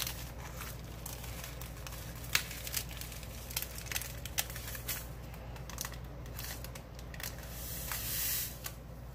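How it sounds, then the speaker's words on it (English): Loose glitter pours back into a cup as a soft, faint, crackling patter of tiny particles, running steadily for several seconds with no talking. "I am going to dump this back in my cup."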